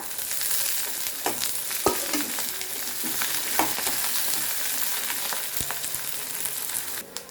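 Onion, ginger, garlic and green chili fry in coconut oil in a home kitchen, giving a steady close sizzle with scattered stirring scrapes and sharp crackles throughout; no one speaks.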